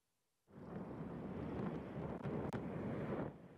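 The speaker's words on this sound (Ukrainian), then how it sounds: "Вибухи боєприпасів на складі під Балаклією почалися близько 3-ї години ночі. Їх і досі чути" A faint, deep rumble of distant ammunition depot explosions near Balakliia, at night, rises suddenly from near silence and rolls on for several seconds, with a brief crackle partway through.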